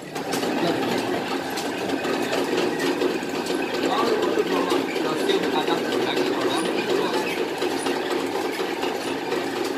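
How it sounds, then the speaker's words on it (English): A silk weaving machine runs steadily in a silk museum, giving a continuous mechanical whirring and clatter at an even level for the whole stretch. "I can ask our worker to switch on the machine"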